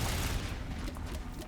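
The Engineer's automatic turrets in Risk of Rain 2 fire in a dense, continuous rattle of rapid shots, steady and moderately loud throughout the short moment with no pauses.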